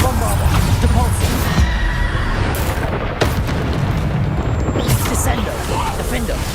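Bombarda and Depulso spells blast in rapid succession during Hogwarts Legacy combat: dense, loud booms and bursts with crackling impacts, layered into a constant roar of game effects.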